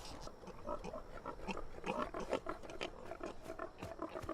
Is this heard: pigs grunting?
yes